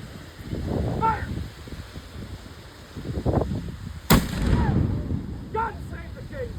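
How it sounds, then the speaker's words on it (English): A historic cannon fires a single booming artillery salute at colonial Fort Michilimackinac, one sharp loud blast rising over outdoor crowd noise, wind and scattered voices. "There is an artillery salute to welcome you to the michilimackinac today."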